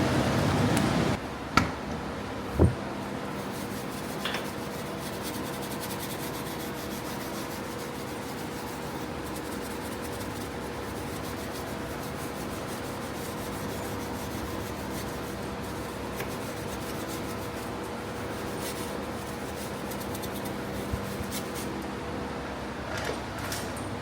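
Steady rubbing and scrubbing on the rusty stainless steel of a 1995 Honda Shadow VT600 motorcycle, a continuous close abrasive swish with a couple of sharp knocks near the start and no talking.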